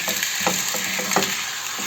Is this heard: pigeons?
no